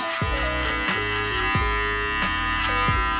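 Electric hair clippers cut hair clipper-over-comb at a barber, a steady close motor buzz with the pitch dipping in repeated strokes about every half second, alone without talk.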